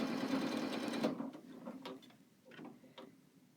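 A sewing machine stitches pieces of Moda quilting fabric in a quick mechanical whirring run that stops, then resumes in short bursts with clicks between.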